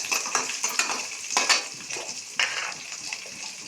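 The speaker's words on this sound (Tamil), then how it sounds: "ஜீரகம் எண்ணெயில் போட்ட உடனே ஒரு மாதிரி பொரியும்" Cumin seeds crackle and sputter in hot oil while drumstick-leaf thuvaiyal is made village style, giving close, uneven bursts of popping over a steady frying hiss.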